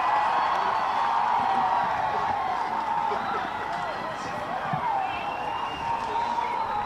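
Wet-weather crowd at a local Australian rules football reserves grand final in Warrandyte, a steady roar of cheering with whoops after a goal, sustained and fairly loud across the whole stretch, with voices mixed into the noise.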